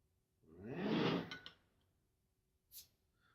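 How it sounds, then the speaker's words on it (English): An 8-hop IPA bomber bottle being cracked open gives a long, loud fizzing rush of escaping carbonation lasting about a second, then a short sharp hiss or clink a moment later. "So let's crack open this 8-hop IPA and see how bitter it is."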